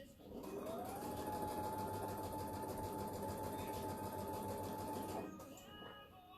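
A domestic sewing machine runs steadily for about five seconds while quilting jelly roll strips, a loud continuous mechanical whir with a rapid stitching rhythm, then stops abruptly.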